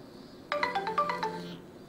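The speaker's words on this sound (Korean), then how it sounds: "아 전화 왔어." A phone ringtone chimes in the Summer Lesson VR video game, a short bright melodic run of about eight clear notes lasting around a second over a quiet background hum, with no one talking.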